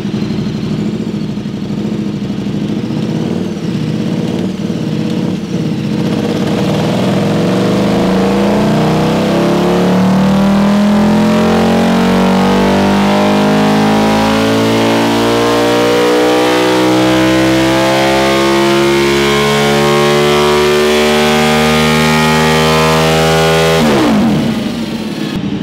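A KTM Superduke 1290 motorcycle engine on a dyno, very loud and close, starting at a rough idle, then climbing in one long, continuous rev to high RPM before cutting off abruptly near the end.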